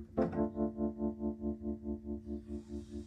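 A Rhodes MK8 electric piano chord struck once, then sustained with a gentle, rounded sine-wave pulsing that rises and falls smoothly several times per second, moderately quiet.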